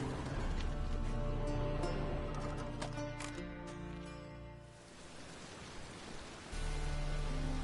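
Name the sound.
rain falling in video game The Witcher 3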